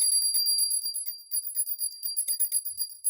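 A hand bell rings in rapid tinkling repeats, bright and close, a continuous jingle that briefly thins before ringing on for devotees.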